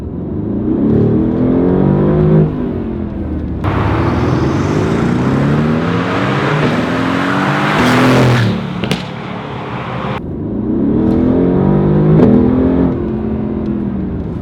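Mercedes-AMG GT R engine and exhaust rev hard and loud close by, surging in repeated bursts with a raspy roar that swells and falls, then settles back to a throbbing idle.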